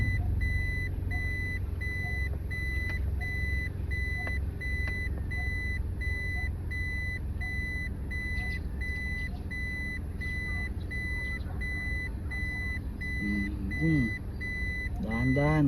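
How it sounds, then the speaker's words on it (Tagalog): A car's reversing alarm beeps in a steady, evenly spaced series throughout a driving lesson, clear above the low hum of the engine, with a brief voice near the end. "Naka-reverse na ako. Maririnig mo na si titititit."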